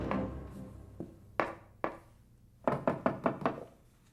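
Knuckles rap on a door in uneven bursts: a few single knocks, then a rapid run of five or six firm raps, close and solid, with no talking during the knocking.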